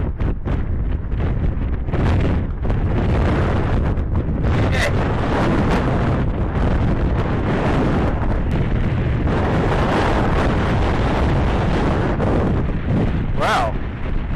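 Strong wind buffeting the microphone outdoors, a loud, constant roar with gusty surges and a few sharp crackles, while a person speaks briefly.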